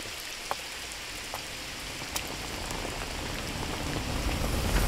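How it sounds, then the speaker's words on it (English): Steady rain in a music video, a broad hiss with scattered drop ticks that thickens and grows louder toward the end, with no voices. "The rain coming on."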